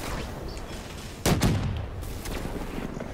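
Gunfire in the video game Black Ops 3, a sharp burst of shots around the middle of a steady roar of game noise and background effects, loud and close.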